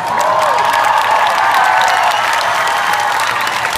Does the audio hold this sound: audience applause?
yes